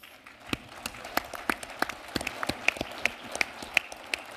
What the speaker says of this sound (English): Makes me nervous when you guys clap for me